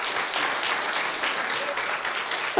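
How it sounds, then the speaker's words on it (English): Audience applause at a Sunday service at a spiritual center, a steady wash of many hands clapping that holds even throughout and swells slightly at the very end. "Yes, give him a round of applause."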